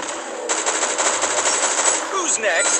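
Rapid automatic gunfire rattles through a mobile shooter game, Unkilled, a dense loud burst of fast shots that kicks in suddenly and runs continuously, with a few whooshing effects near the end and no clear voices.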